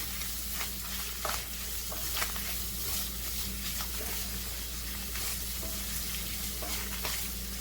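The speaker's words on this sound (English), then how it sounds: "we're going to go ahead and we're going to stir this all up and mix it." Ground beef and macaroni noodles frying in a pan while being stirred together, giving a steady, dense sizzle with occasional soft scrapes and clicks throughout, and no talking.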